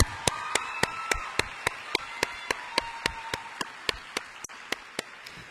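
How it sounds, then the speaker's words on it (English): A graduation ceremony audience claps in a soft wash of applause, with one sharp, evenly spaced clap cutting through the crowd at a brisk, regular beat. "Another round of applause for Juliana and Bailey."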